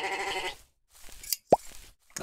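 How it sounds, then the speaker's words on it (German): Two or three short sheep bleats from a Minecraft-like game (MineClone2), followed by a sharp plop, separated by silent gaps and heard on their own without speech. "Dort ist noch ein Schaf."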